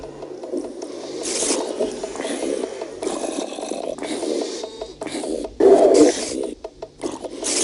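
A furnace machine in Minecraft Tekkit, fitted with upgrades, shuts down with a continuous raspy, scraping grind that swells in waves and has a louder burst near the end, with no voices.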